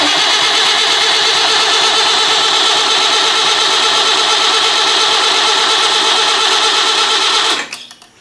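A Leyland 154 tractor's diesel engine, run out of fuel, cranks steadily on the starter for about seven seconds without firing, loud and close, then cuts off abruptly.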